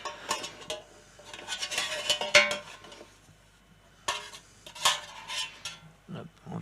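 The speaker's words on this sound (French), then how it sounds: "On vient mélanger les sucs qui se sont caramélisés dans le fond." Utensil scraping and clinking in a dish while caramelized duck breast marinade juices are stirred up from the bottom, several irregular bursts of close scraping with short pauses.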